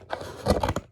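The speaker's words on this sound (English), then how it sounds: "So I'm going to take my scissors and I'm going to cut" Scissors cut into a cardboard box fort to make a drawbridge, giving a quick run of close, crisp snipping and crunching over about a second with no talking.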